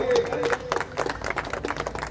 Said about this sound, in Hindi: तालियां बजें इनके लिए